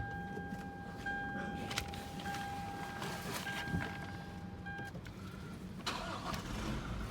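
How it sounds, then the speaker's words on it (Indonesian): A Toyota Fortuner VRZ 2.8 GR Sport 4x4 diesel fires up with a steady low engine rumble, accompanied by a couple of cabin chimes that ring over the running motor. "kita akan coba nyalakan mesinnya ya"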